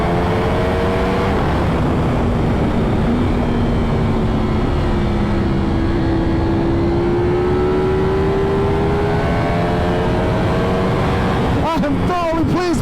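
A fully modified Ducati Panigale V4 R motorcycle drones steadily at riding speed, its engine tone slowly shifting pitch under constant wind rush, with a brief sharper rise in revs near the end.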